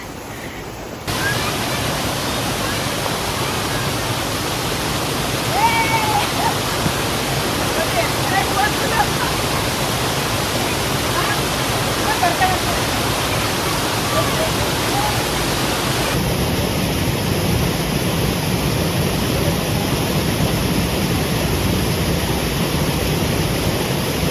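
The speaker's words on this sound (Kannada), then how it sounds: "ಆ ಕಡೆ ಈ ಕಡೆ ನೀರು ಹರಿತಾ ಇದೆ." Broad steady rush of forest water flowing on both sides of a swaying hanging bridge in Germany's Black Forest, a constant roar that carries on unbroken throughout.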